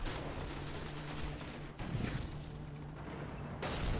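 Gunfire rattles across the Rusted Lands on Earth during a competitive Control match in Destiny, a quiet, steady stream of rapid shots layered over continuous battle noise, growing briefly louder near the end.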